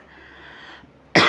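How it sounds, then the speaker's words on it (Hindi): A single sharp, loud cough from a man lecturing on the Dowry Prohibition Act. It bursts out abruptly after a faint stretch of near-silence and sounds close to the microphone. "खांसी आ रही है इसलिए थोड़ा आपको मैनेज करना पड़ेगा।"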